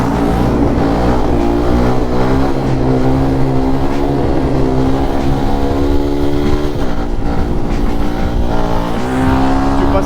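A Supermot 125 WRX motorcycle engine, loud and close, revving hard with rising pitch and brief dips as it shifts up through the gears, a continuous buzzing roar throughout.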